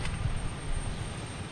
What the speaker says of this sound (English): We got a JetBlue over here backing up